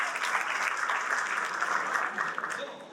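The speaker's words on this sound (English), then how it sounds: "A huge round of applause to Noman." An audience at a Karachi alumni reunion stage event applauds a performer called up on stage, a full, sustained wash of clapping that tapers off slightly at the end.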